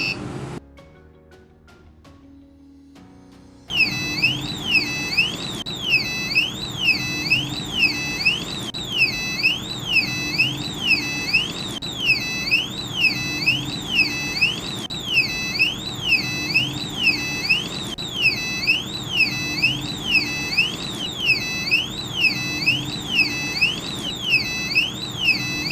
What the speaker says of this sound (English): anything which tries to pass through the laser diode and the LDR sensor is detected and indicated through the buzzer